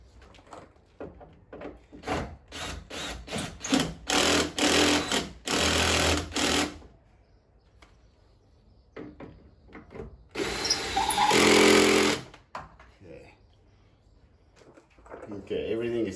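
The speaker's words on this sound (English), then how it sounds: "I'm just gonna tighten up my chassis bolts a little bit" Power tool snugging chassis bolts on a Jeep during a budget rock slider install, running in several short bursts and two longer pulls between pauses, close and fairly loud.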